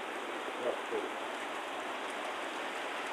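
Steady rain hisses down in an even, continuous wash of noise with no break.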